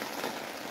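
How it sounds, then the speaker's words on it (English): Steady rain falls in a soft, even wash of patter with no distinct drops standing out, faint and continuous, with no voices heard. "It's so rainy."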